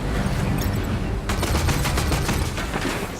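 Missiles firing in the video game Destiny 2, heard as a dense rapid barrage of loud, close, rattling bursts over a steady, noisy game soundscape, with no talking.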